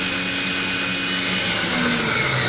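An electric drive motor for a sliding gate runs steadily with a soft-start module, a close, loud, even whir and hum with a bright high whine and no talking.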